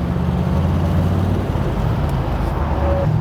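A 60-year-old car pulls away as the clutch engages on a city road, its engine giving a loud, low, steady rumble up close with some surrounding traffic noise.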